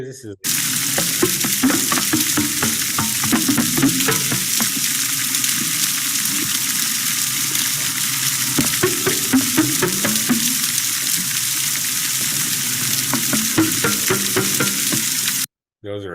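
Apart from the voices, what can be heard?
walruses, recorded underwater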